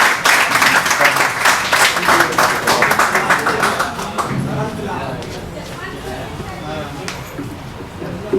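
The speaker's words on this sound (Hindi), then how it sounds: "और तालियों में कमी है अभी, और तालियां।" Dense audience applause at a Hindi-Urdu ghazal and poetry recital (kavi sammelan) rings out loud and full, then thins and fades over several seconds into a lighter patter.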